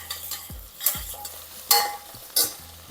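Fresh mint leaves torn into hot oil in a pan while making tomato rice, giving a steady close sizzle broken by several sharp spatter bursts and a few stirring knocks.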